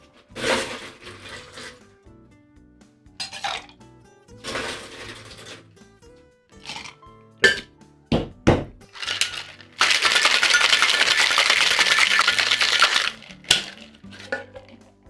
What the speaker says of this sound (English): we're going to go ahead and shake the cocktail now